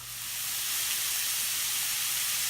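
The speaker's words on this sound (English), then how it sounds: "So this is the asparagus and the carrot that I'm just sauteing off." Asparagus and carrot sauté in a hot pan with a steady, close hiss of sizzling that rises in the first half-second and then holds evenly throughout, with no voices.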